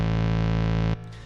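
Chiptune bass synth tone with added distortion, a loud sustained buzzy note holding steady for almost a second before cutting off to a faint tail.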